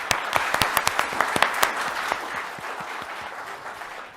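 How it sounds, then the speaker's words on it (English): Audience applause for a group of engineering students, a dense wash of many hands clapping with sharp individual claps standing out early, then thinning and settling into a steadier, softer patter. "So could you please give a big round of applause for them?"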